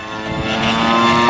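An R/C Extra 300 model aerobatic airplane built of thin plywood, balsa and carbon fiber flies 3D stunts at an Indianapolis airshow at Mount Comfort Airport, its propeller engine giving a steady, close, buzzing drone that rises slightly in pitch and loudness.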